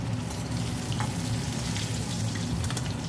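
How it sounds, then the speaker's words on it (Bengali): Parshe fish with roe fry in a pan, giving off a steady, soft sizzle and bubbling of hot oil at low volume, with no talking over it. "মাছগুলোকে একটু ভালো করেই ভাজতে হবে"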